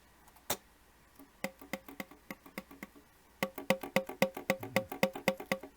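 The keys of an aged vintage horn are pressed and released one after another, giving a steady series of sharp pops and clicks. The taps start sparse and quiet, then come faster and louder with no talking.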